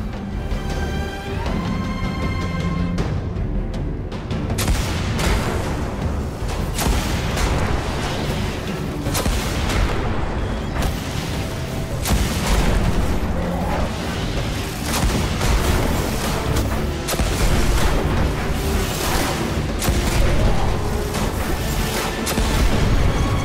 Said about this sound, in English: Scorch cannon. Powerful and very rare indeed.